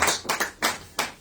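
Church congregation clapping during a Spanish-language evening service, four distinct rhythmic claps in a row, close and fairly loud.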